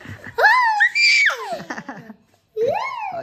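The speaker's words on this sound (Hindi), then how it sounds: "चिल्लाती बहुत है ये गाइस, चिल्लाती बहुत है भाई।" A young girl shrieks and laughs up close in high, sliding bursts, with a pause of quiet before another loud squeal of laughter breaks out.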